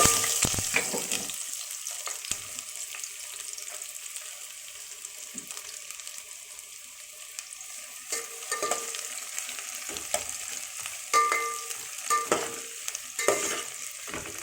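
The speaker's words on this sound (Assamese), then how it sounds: "এতিয়া আমি পিঁয়াজখিনি বহাই দিম" Sliced onions frying in hot oil with whole spices for chicken biryani give a steady sizzle with occasional stirring scrapes and soft clinks, close and continuous with no talk.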